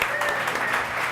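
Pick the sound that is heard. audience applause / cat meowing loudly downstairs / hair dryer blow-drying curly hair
audience applause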